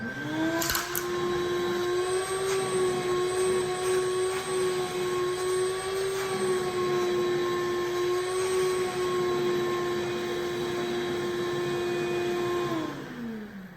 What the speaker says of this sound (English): it's going to be very simple cleanup because I can turn the vacuum on.